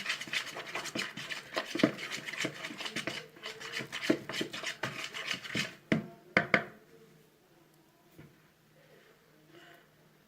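Pastry dough being kneaded by hand in a bowl as water is added, close squelching, rubbing and slapping sounds in an irregular rhythm that fade to near quiet toward the end.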